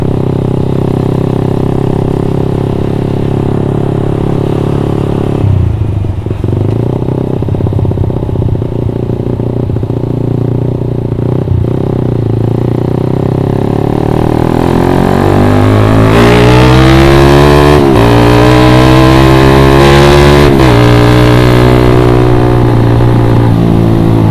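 A modified, upgraded 2014 Suzuki Satria FU facelift motorcycle idles loudly up close, then its engine is revved sharply twice, pitch climbing and falling with each throttle blip.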